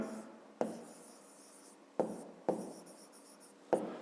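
A pen scratches across paper while a fifth-grade math exercise is worked out. Four quick, sharp stroke onsets stand out against a soft continuous scratching, close and quiet, with no talking.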